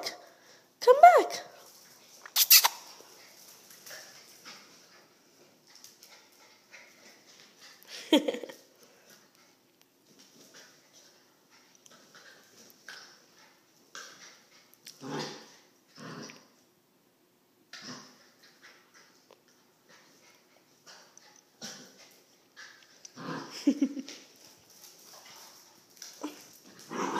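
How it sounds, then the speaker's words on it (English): Puppies whimper and yip in scattered short bursts, with a person talking intermittently over them. "Puppies!"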